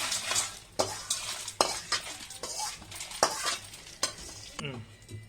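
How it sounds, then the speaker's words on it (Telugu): Chennangi leaves frying in oil in a pan sizzle under repeated scraping stirs of a spatula, a rhythmic series of sharp metallic strokes over a constant crackle. "ఇదే పనిలో మళ్ళీ కొంచెం నూనె వేసుకొని ఆకు వేయించుకుందాము"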